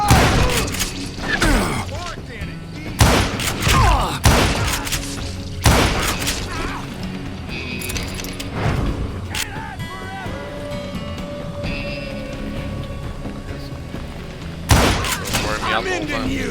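Gunfire in the video game Call of Juarez: Gunslinger, loud isolated shots and short bursts cracking at irregular intervals, with game voices and ambient effects between them.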